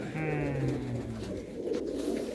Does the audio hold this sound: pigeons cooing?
yes